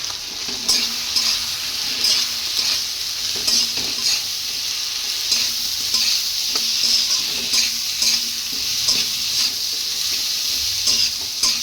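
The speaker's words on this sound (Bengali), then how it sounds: "মশলাটাকে এবার আমি ভালো করে ভেজে নেবো।" Chili powder and coriander powder spice paste frying in a pan for a thin koi fish curry, with a steady bright sizzle and repeated stirring scrapes and taps of a spoon, close and loud, with no talking.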